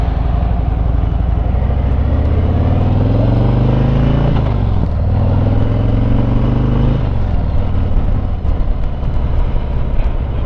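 Harley-Davidson Ultra Limited motorcycle engine running close up in traffic, a loud, steady low rumble that rises and falls in pitch with revs, with clatter and road noise behind and no talking.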